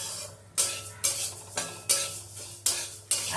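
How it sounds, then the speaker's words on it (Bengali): A utensil scrapes and knocks against a dry, empty wok while raw lentils are stirred over medium-low flame, six loud regular strokes about half a second apart, each a sharp scrape that fades before the next. "কাঁচা গন্ধটা না যাওয়া পর্যন্ত আমি একটু খালি কড়াইতে নেড়ে নেব"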